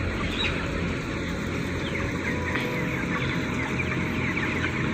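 Many broiler chickens cluck together in a dense, constant chorus inside an enclosed broiler house, backed by a steady mechanical hum of blower fans running.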